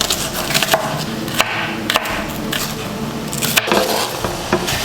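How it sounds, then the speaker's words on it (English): A knife chops onion in a few irregular, sharp cuts on a board, set against a constant kitchen sizzle and light clatter. "we're gonna chop a little bit of onion"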